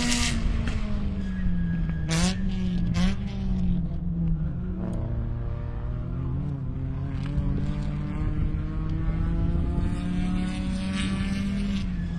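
Race cars, including a Toyota FRS, lapping Carolina Motorsports Park through the kink: a loud engine note rises and falls as cars pass close, with gear changes and a second car audible, no voices over it.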